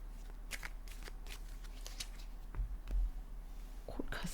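Tarot cards are shuffled close by in a series of crisp riffling flicks and soft slaps, recurring at a quick uneven rhythm with light handling rustle between.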